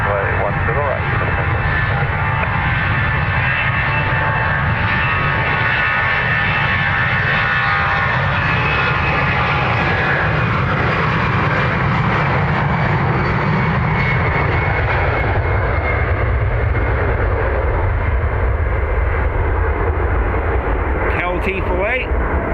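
Aircraft engines roar at Dublin Airport on runway 10 right, a loud sustained rumble that swells and shifts in pitch as a plane powers up, with a radio voice talking over it.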